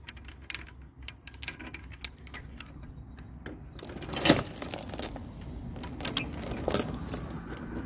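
A ratchet load binder buckle is flipped and worked on a chain for a machine tie-down, giving scattered metallic clicks and jangles, close by and fairly quiet.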